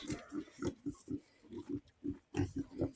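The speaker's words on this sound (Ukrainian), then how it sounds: "Свині, свині." Pigs grunt in a rapid, irregular series of short, close snorts with no talking.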